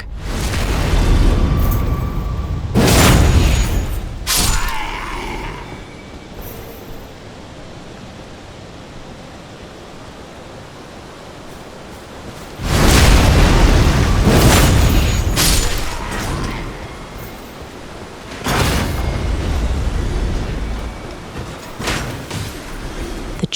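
A charmed ballista gunner fires on castle defenders at Stormveil Castle in Elden Ring. Three big booming blasts land, each followed by a long roaring rumble, and a broad noisy din carries on between them.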